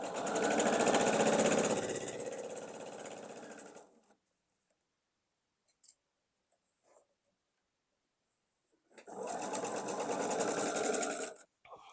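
Sewing machine stitching a quilt block runs steadily and close for about four seconds, stops into near silence, then starts up again for a second burst of rapid even stitching.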